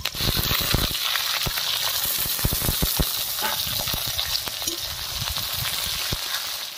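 Bay leaves, dried red chillies and cumin seeds are dropped into hot oil for tempering a Bengali meat curry, making a loud, close, crackling sizzle with sharp pops and spits that settles into a steady hiss.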